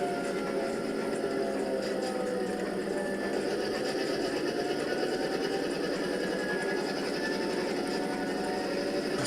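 An N gauge model diesel locomotive with a Kato sound box whirs and hums faintly as it eases into motion, a steady soft mechanical drone with light ratcheting texture and no voices.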